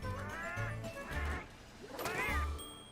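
Repeated cat meows from Monster Hunter Rise: Sunbreak, a few distinct mews spaced across the moment over low in-game rumble, fairly loud and close.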